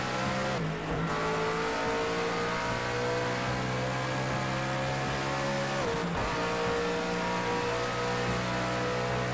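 Race car in Project CARS 2 at Bathurst accelerating hard, engine pitch climbing through gear changes with brief dips at each shift, loud and close with no talk.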